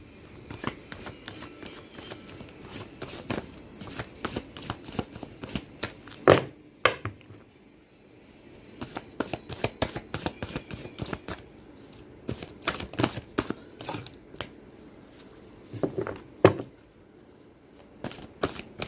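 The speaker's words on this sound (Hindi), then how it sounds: "मैं आपके लिए यहाँ पर यस और नो का कार्ड निकालूंगी" Tarot cards are shuffled and drawn, producing bursts of rapid papery riffling and flicking close by. Brief pauses and a few soft taps break up the shuffling, with no voices.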